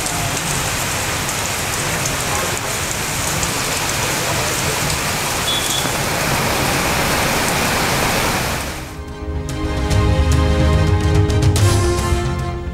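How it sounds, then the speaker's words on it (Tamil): Heavy overnight rain pours across districts of Tamil Nadu as a loud, dense, steady hiss that runs unbroken for several seconds. It then gives way to a different, more tonal sound near the end. "தமிழ்நாட்டின் பல்வேறு மாவட்டங்களில் இரவு கனமழை."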